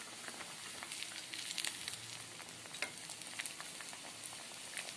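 Aloo tikki patty frying in hot oil, a steady close sizzle with small crackles and pops holding level across the whole stretch, no voices.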